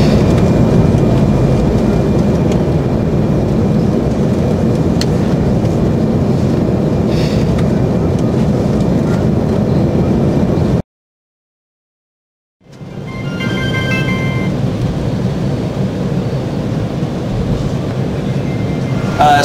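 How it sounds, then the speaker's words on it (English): Steady loud rumble and rattle while riding a tram in New York, with a short total dropout midway before the continuous rolling noise resumes, faint squeals on top. "We are on the tram right now"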